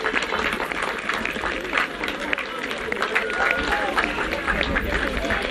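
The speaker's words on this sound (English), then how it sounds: "You can hear the applause there as they're clapping her off the field." A rugby crowd at a women's 12s semifinal between Jamaica and St. Lucia applauds as an injured player is clapped off the field. The clapping is a steady, distant wash under a commentator's continuous talk.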